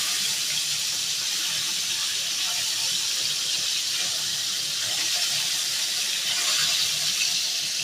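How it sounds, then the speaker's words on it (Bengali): Bhola fish sizzles in a frying pan with a steady, even hiss of hot oil that continues without a break from start to finish. "এখানে ভাজা বসিয়ে দিয়েছি ভোলা মাছ"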